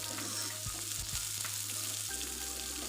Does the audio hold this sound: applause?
no